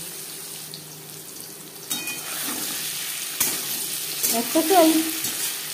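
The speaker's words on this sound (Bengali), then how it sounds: "লবণ হলুদ দিয়ে পনির হালকা করে ভেজে নেব।" Paneer frying in a pan with turmeric and salt gives a steady sizzle with stirring clatter and utensil scrapes, while a voice speaks briefly.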